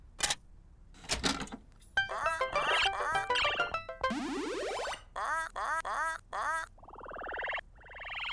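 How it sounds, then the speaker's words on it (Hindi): A cartoon duck on a pond gives a series of loud, clipped quacks in quick bursts, mixed with other bright cartoon sound effects and no talking. "देखो, वहाँ तालाब में बत्तख है।"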